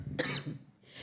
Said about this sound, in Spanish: yo advertí del principio que iba a tener una tos que me acompaña